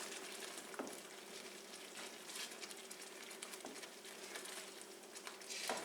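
Heavy cream stirred into simmering chicken tikka masala sauce in a pan, a soft steady sizzle and bubbling with faint spoon scrapes, close and fairly quiet, with no talking.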